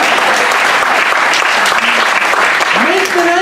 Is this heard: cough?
no